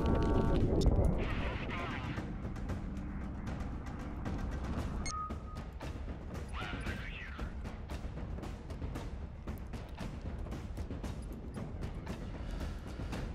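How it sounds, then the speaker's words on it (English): Flak fire in the space combat game House of the Dying Sun, a dense run of repeated booming bursts and cracks continuing throughout at steady loudness, with a brief tonal whine midway. "you can see the flak coming in already"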